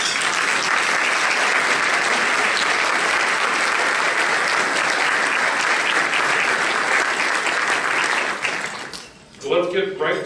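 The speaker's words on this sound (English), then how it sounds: "we will give you a round of applause" Sustained applause from an event audience at a Chamber of Commerce candidate debate, dense and loud for about eight seconds before fading out, followed by a voice starting to speak.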